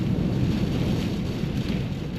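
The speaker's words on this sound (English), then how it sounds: "it's very windy and raining." Wind and rain sweep across Portage Lake, Alaska, a steady, dense rumble of gusts and rainfall buffeting the microphone, with no voices.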